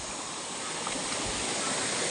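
Daranak Falls in Tanay, Rizal pours as a steady, loud, broadband rush of falling water, constant and unbroken throughout.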